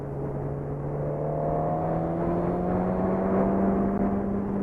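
Suzuki GSX-R 1000 motorcycle engine on a demo ride, a steady droning engine note rising slowly in pitch as it pulls, heard from the saddle with wind rush beneath and no talk.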